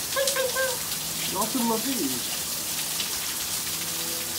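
Rain falls outdoors in a soft, continuous patter on surfaces while a person talks briefly over it and a bird chirps a few times nearby.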